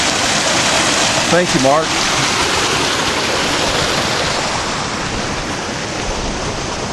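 Water gushes steadily through a Blue Bowl micro sluice on a hydraulic gold-recovery setup, a loud continuous rushing wash that fills the whole stretch, with someone briefly speaking over it near the start.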